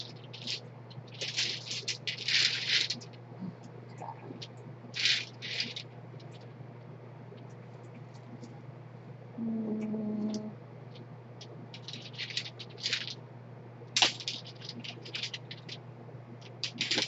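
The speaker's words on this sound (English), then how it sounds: "listening to me shuffle through bags of polish." A bag of nail polish bottles is rummaged through at close range, giving intermittent bursts of plastic rustling and glassy clicks over a steady low electrical hum, with quiet gaps between handfuls.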